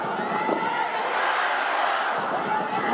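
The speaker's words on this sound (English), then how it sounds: "And the crowd, I'm in awe of them, Siddharth, that they are still cheering on" Spectators at an India vs China men's Asian Champions Trophy hockey match cheering as a steady, distant crowd roar, with no clear separate voice on top.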